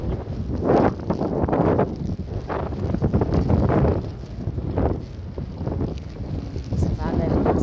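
Strong wind blowing by the sea, buffeting the microphone in loud, gusting roars that swell and ease throughout.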